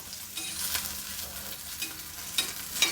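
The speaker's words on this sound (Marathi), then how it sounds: "मिरच्या आपल्याला छान भाजून घ्यायच्यात" Green chilies roast in a pan, giving a low steady sizzle close by with light stirring and occasional soft crackles.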